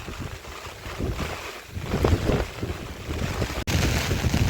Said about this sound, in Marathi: हा बघा जोरात पाऊस आला आहे आपण छत्र्याने पण थांबलो एका ठिकाणी वारा पण खूप आहे इकडे